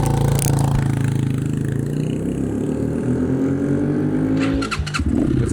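A cheap Amazon dirt bike launches, its small engine revving loudly up through rising pitch as it pulls away, close by and steady, with a brief dip near the end before resuming.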